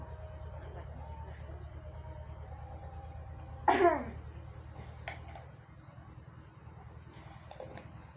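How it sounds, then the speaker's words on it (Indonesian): A patient produces one forceful effective cough, a short loud burst standing out over a steady low hum, with someone speaking softly before and after. "Silakan Bapak batukkan."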